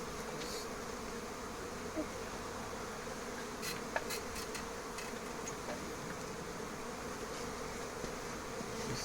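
A honeybee swarm being recovered outdoors in Santeny, giving a continuous soft buzz of many bees at moderate distance with a few brief close passes and faint clicks.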